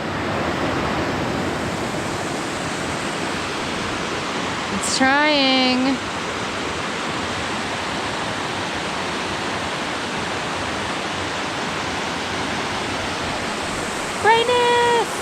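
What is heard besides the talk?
waterfall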